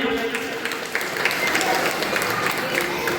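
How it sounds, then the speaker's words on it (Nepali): Audience clapping at an Independence Day celebration held by a Gorkha community society in Darjeeling, a dense, steady round of applause from a crowd filling the whole stretch with faint voices mixed in. "उहाँलाई पनि ताली बजाइदिउँ"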